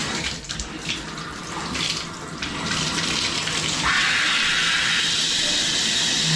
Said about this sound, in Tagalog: check natin shower.